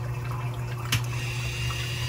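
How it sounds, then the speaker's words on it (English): A valve on a homemade recirculating CO2 scrubber clicks over, a single short sharp click above a steady hum of running water and air. "Hear the valve?"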